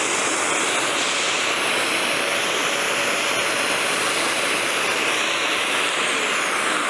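A Petra Tools fogger runs and sprays, a loud, steady, close hissing roar that continues unbroken throughout with no talk.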